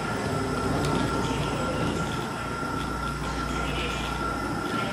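Busan subway train heard from inside the carriage, a steady loud rumble with a constant hum running throughout, while faint voices talk in the background.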